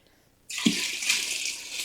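Freshly prepared water being poured into a vessel while brewing a chocolate milk stout, a steady rushing splash that begins abruptly and continues loud and close with no talk.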